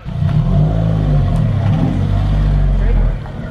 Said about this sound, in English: your exhaust sounds nice right off this this glass here